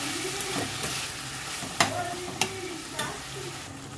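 Spices with turmeric powder are stirred in a frying pan under a soft, steady sizzle, with several sharp scrapes and taps of the spoon against the pan. No one speaks.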